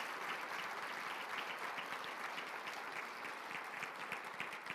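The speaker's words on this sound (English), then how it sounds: "Please give him a round of applause." Steady applause from a crowd at a State of the City address, continuous clapping throughout, heard from a moderate distance and fairly quiet.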